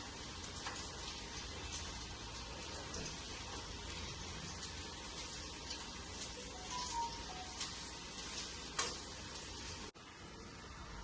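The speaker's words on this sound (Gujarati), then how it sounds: "આપણા બોલ પણ તળાઈ રહ્યા છે." Quiet, steady bubbling and crackle of tikki balls deep frying in oil, with faint scattered pops heard from a short distance.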